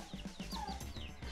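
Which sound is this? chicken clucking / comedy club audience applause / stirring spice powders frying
chicken clucking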